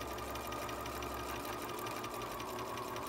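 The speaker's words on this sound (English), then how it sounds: "I always backstitch before stitching forward" A sewing machine runs continuously for a few seconds, backstitching and then stitching forward at a short 1.5 stitch length on foundation paper piecing, a steady close mechanical whir with a slight change partway through.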